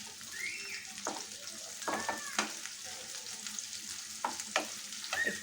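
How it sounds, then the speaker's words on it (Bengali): Chopped onions with a little salt frying in a kadai for kadai chicken, a steady close sizzle broken by irregular scrapes and taps of a spatula stirring the pan. "ভাজাটার জন্য পেঁয়াজটা তাহলে ভালো করে ভাজা হয়ে যাবে।"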